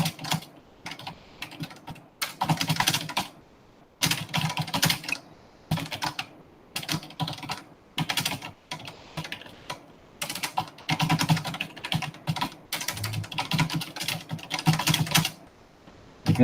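Rapid bursts of computer keyboard typing while a legal petition is drafted, close and clear, with clattering key strokes in runs separated by short pauses.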